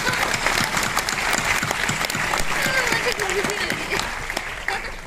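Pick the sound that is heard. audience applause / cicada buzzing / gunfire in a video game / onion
audience applause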